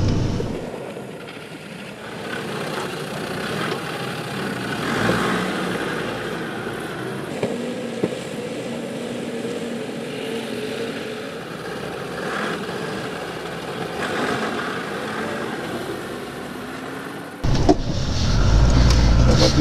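A stock Land Rover Defender on all-terrain tyres, with no lift and no diff locks, drives off-road in the Victorian High Country. Its engine gives a steady mid-distance rumble, with faint voices in the background, then grows suddenly louder and rougher near the end.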